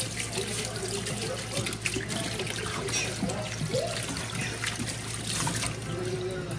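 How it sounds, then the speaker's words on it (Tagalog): Cold tap water runs steadily into a sink as boiled okra is rinsed, a continuous close splashing and trickling stream with small irregular surges throughout. "hugasan na natin ng malamig na tubig"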